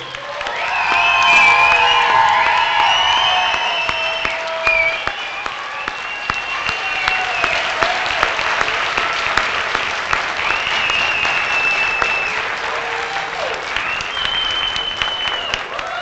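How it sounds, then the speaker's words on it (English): Sustained applause from a large crowd at a graduation ceremony, with cheers and whoops mixed in, steady and loud throughout. "give a big round of applause to the entire group"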